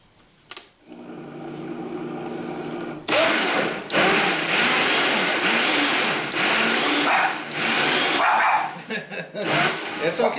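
A blender whirs loudly in a kitchen, mixing egg bite ingredients for sous vide cooking, in long sustained bursts with brief pauses and a clunk at the start.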